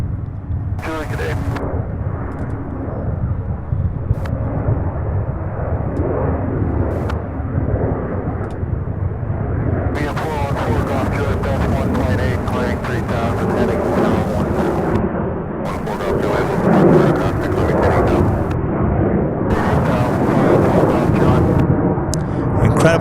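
A UPS heavy freighter jet climbs away from Louisville airport with a deep, rumbling engine roar, while a nearby voice talks over it and radio chatter cuts in.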